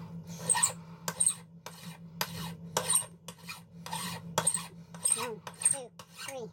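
Metal threads on a custom lightsaber hilt being filed by hand, about ten close, rhythmic rasping strokes in quick succession, each a short gritty scrape with no talking.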